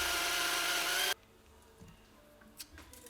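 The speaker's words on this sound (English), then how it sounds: "I decided to drill this by hand." A hole being drilled by hand: a loud, steady grinding hiss runs for about a second, then stops abruptly, leaving near silence with a few faint knocks.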